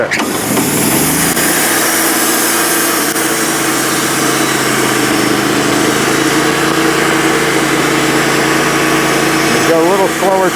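A sawmill with an engine-driven blade cuts through a bullet-riddled black walnut log, producing a loud, continuous whine and engine drone that holds steady throughout, with a faint voice beneath it.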